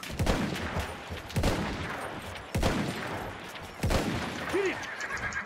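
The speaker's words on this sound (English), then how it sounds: "This is the point where you take out your rifle." Four heavy rifle shots ring out at steady intervals of about a second in Battlefield 1 cavalry combat, each with a booming echo, and a horse whinnies briefly between the last shots.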